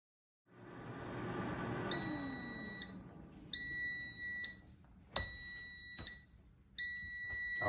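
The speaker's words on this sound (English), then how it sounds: "so the timer went off" Kitchen timer alarm going off while corned beef cooks in an air fryer, sounding as repeated loud electronic beeping bursts with short gaps, alone with no talk.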